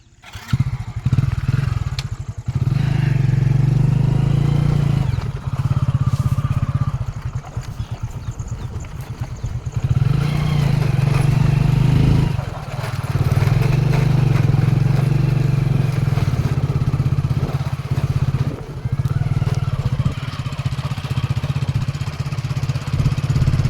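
Motorcycle engine runs loud and close while riding on an asphalt road through farmland, a continuous throbbing drone that rises and dips with throttle changes, with brief lulls and a rough, clattering edge.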